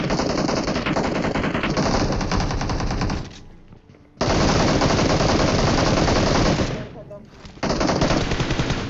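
Rapid automatic gunfire in a battle royale mobile game, long dense bursts separated by two brief pauses, loud and close with no talking.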